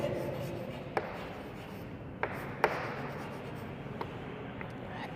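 Pen writing on paper while working an accounting problem, a steady soft scratching that runs throughout with a few sharper taps of the pen, close to the microphone in a quiet room.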